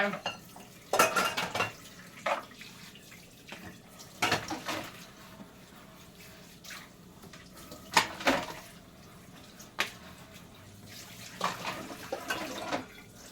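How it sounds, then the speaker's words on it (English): Dishes are washed and rinsed under a weak-pressure tap, with repeated clinks of plates and cutlery and scrubbing against a soft background of running water, close and irregular. "I do have to extra rinse and all that good stuff. Make sure I get the dish clean."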